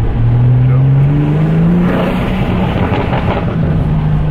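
BMW M4 with a full straight-pipe exhaust revving up, a loud, raspy engine tone sweeping upward in pitch, then settling into a rougher, steady idle-like drone, with brief speech mixed in.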